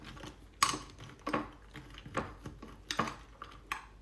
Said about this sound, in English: Just scoop in your nuts and just enjoy thoroughly.